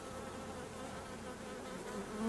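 Honeybees buzz at a drone-laying hive with a large bee population, a dense, even hum that stays steady and fairly faint, swelling slightly at the end.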